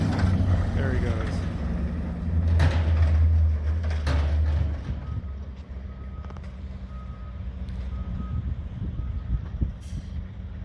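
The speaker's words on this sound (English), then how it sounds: "Such a cool old truck." An old cab-over truck engine rumbles heavily at first and then drops away as the truck pulls off, with a hiss of air brakes and faint intermittent beeping in the background, while people talk nearby.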